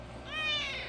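A talkative pet cat named Mocha lets out one drawn-out, rising-then-falling meow, close and clear over a faint background hum.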